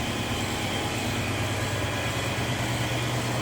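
A 1963 Oldsmobile 98 Town Sedan with a 394 V8 runs smoothly at idle, a steady, even engine rumble close by with no voices.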